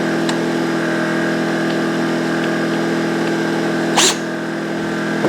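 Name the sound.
generator running outside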